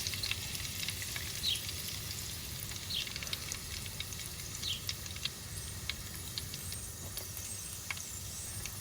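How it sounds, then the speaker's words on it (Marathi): Mustard seeds and curry leaves crackle in hot olive oil for a lemon pickle, a dense, steady sizzle peppered with quick popping spatters, close and moderately loud. "आणि मागीर तेल गरम जाले उपरांत आता राय घालता, सासवां घातल्या उपरांत करीपत्ता घालता"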